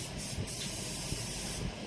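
A spray gun applying blue pearl paint to a BMW brake caliper, a continuous close airy hiss with brief stronger bursts as the trigger is worked.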